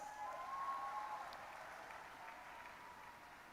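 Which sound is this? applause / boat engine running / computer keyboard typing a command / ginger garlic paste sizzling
applause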